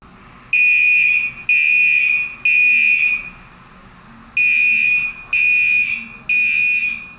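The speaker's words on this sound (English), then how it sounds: "This alarm indicates there is a condition inside the facility that necessitates an evacuation." A facility evacuation alarm sounds in six loud, steady electronic buzzer tones, each about a second long, with a longer gap after the third tone.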